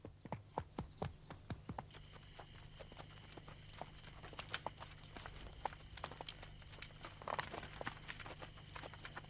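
Horse hooves clip-clop at a steady walking pace, crisp rhythmic hoofbeats that are dense and moderately close over a constant low rumble, no voices.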